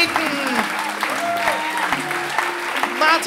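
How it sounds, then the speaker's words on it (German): Steady applause fills a hall at a poetry slam semifinal in Bayreuth, a dense crowd clapping continuously with voices faintly mixed in. "Ein Applaus bitte für den Poeten."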